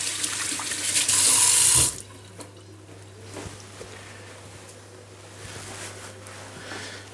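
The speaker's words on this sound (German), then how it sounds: "dann Hände waschen wieder" Hands washed under a running kitchen tap, a loud rush of water for about two seconds that then cuts off, leaving faint drips and small handling noises alone.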